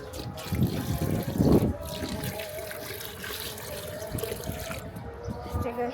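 Water pours and splashes out of a large bucket in a gushing burst that peaks early, then trails off into trickling, with quiet background sounds around it.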